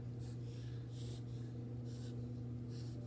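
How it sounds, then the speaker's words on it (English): A pencil scratching rough sketches on paper, soft rhythmic strokes close up and fairly faint over a steady low hum. "So I'm just drawing some rough sketches here of some ideas,"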